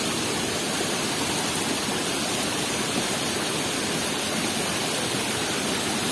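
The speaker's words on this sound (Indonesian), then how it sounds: "Ini kali yang ke Curug dari arah Wonosuko Tandungan." Fast, heavy water rushes steadily downstream in a forest river approaching a waterfall (curug), a dense broadband roar that stays loud and unbroken throughout, with no voices.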